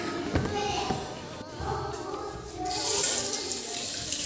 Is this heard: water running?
yes